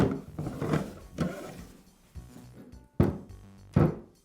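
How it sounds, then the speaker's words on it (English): Someone removes the base from a Porter Cable router motor during a repair, making a series of close, irregular knocks and thunks of metal parts shifting and clunking, with a few sharper hits near the end. "Now I'll remove the base from the motor."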